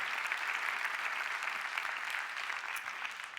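An audience at an e-health awards event applauds healthcare workers, a dense, steady wash of clapping from many hands, fairly distant and continuous without pause.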